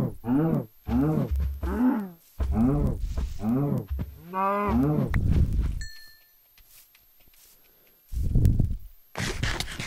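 Cow in Minecraft giving several loud, harmonic moos in quick succession, followed by a drawn-out low lowing call and a short burst of game noise near the end.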